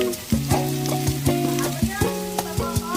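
Crocodile meat stirred and frying in oil in a pan gives a steady close sizzle, with repeated scraping stir strokes about every half second and a faint tonal background running underneath.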